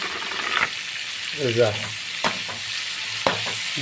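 Quail kadai frying in a pan, a continuous bright sizzle broken by a few scraping stirs and sharp utensil knocks, close and fairly loud.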